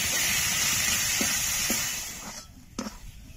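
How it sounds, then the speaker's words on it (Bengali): Potatoes fry in a pan for a chicken cutlet dish, giving off a broad steady sizzle. The sizzle fades after about two seconds, and a few soft knocks and scrapes follow. "আলুগুলো ভালো করে আমি এরকম করে ভেজে ভেজে দেব।"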